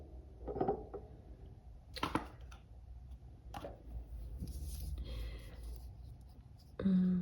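A pen scratching by hand in a planner binder, soft short strokes with pauses and a few taps, close and quiet, with faint low background noise.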